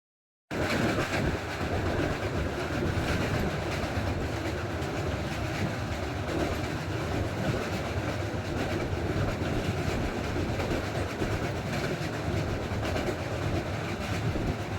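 The Howrah–Puri superfast train runs steadily, heard from on board as a continuous loud rumble with rhythmic clickety-clack of wheels over rail joints, with no voices.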